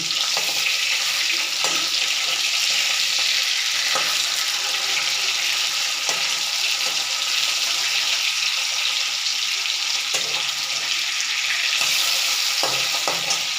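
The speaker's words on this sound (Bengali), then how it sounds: "আমি এখন ইলিশ মাছ ভাজা করছি" Hilsa fish frying in oil, a steady loud hiss and crackle that carries on unbroken, with a few small pops and no voices.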